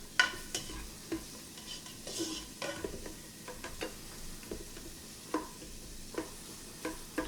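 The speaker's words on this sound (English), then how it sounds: "So you add in your garlic to your onions. And we're going to let that cook for a few minutes." Garlic and onions sizzling softly in a pan while being stirred for a vegan sausage and beans dish, a low steady fry with regular scraping strokes of the utensil, close but quiet.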